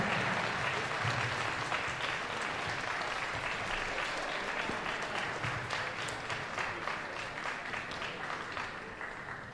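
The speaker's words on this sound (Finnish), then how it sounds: "Annetaan vielä raikuvat aplodit Renne Kuusistoon" Loud, dense crowd applause fills a wrestling event hall after the winner of a match is announced, sustained evenly throughout with faint voices mixed into the roar.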